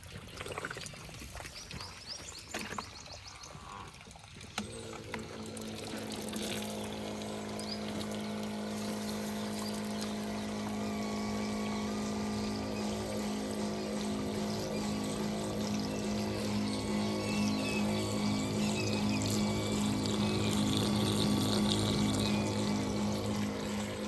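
Water is pumped into a tractor tyre. A close, continuous rush of pouring water runs under a steady humming pump drone that grows slightly louder over time, with no talking.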